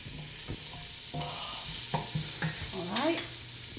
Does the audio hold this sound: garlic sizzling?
yes